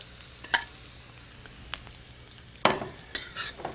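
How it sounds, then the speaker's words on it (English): Green chilies, cumin seeds, asafoetida and turmeric frying in hot oil, with a soft, quiet sizzle broken by a few sharp spoon scrapes and clatters against the pan. "Fry up the chilies with the cumin seeds."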